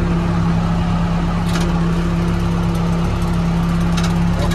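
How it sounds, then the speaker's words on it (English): Case 580 L 4x4 backhoe loader running steadily at close range, its engine drone and hydraulic whine holding a constant tone as the rear hydraulic outriggers are raised, with a couple of faint clanks. "Backhoe controls, rear hydraulic outriggers. The outriggers come up."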